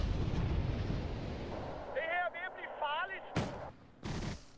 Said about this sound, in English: as my M113 moves across the open, it's taking fire from a Speerpanzer Lux I'm having trouble spotting